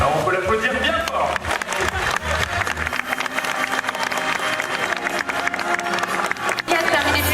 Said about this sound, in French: Alors on peut l'applaudir bien fort.